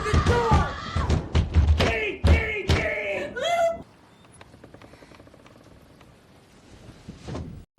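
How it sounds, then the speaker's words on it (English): A man pounds on a locked bathroom door in a motel film scene: heavy, repeated thuds mixed with voices and score, then the banging cuts off abruptly into near silence. "Lou pounds on the door until the banging abruptly stops."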